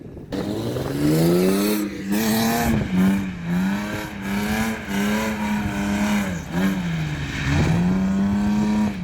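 A BMW 135 drifts on an M-shaped course, its engine droning and revving steadily with wavering pitch and tire noise, loud and close throughout.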